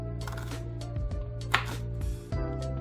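A knife cuts through raw steak on a board in a few soft, uneven strokes and taps, close by, over a steady low background hum.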